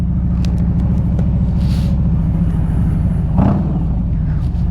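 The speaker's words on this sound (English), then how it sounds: "it's got TAB performance exhaust system on it, so it sounds pretty cool" A Harley-Davidson Street Glide bagger motorcycle fitted with a TAB Performance exhaust idles with a deep, loping, steady rumble close by, a brief throttle blip near the end.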